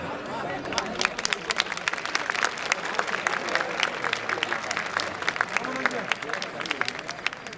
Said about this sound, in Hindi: हम ताली बजा सकते हैं।